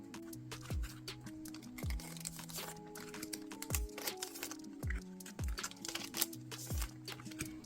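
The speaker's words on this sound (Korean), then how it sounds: "역시나처럼 비닐은 벗겨야겠죠?" Plastic wrapping is peeled and crinkled off new merchandise in short repeated bursts, with crisp rustling and crackling up close and no talking.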